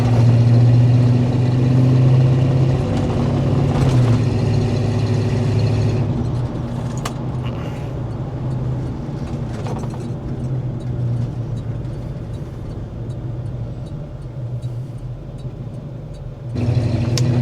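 A 1987 Chevrolet Silverado K10 pickup with its 350 V8 and automatic runs steadily from inside the cab, a loud low engine drone that eases slightly after the first few seconds and holds an even hum.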